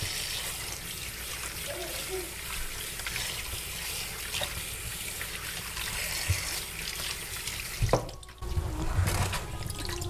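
Fish is washed under running tap water in a kitchen sink, a steady close splashing flow with brief handling knocks and a sharper splash near the end.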